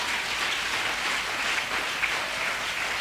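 A church congregation applauds the Lord, a steady wash of many hands clapping at moderate, somewhat distant volume.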